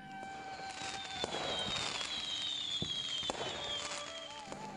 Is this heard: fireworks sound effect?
yes